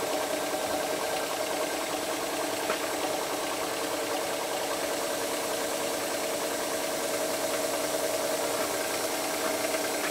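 High-pressure misting nozzles spray at 150 psi, giving a continuous loud, even hiss over a steady mechanical pump drone with a faint rattle and no speech.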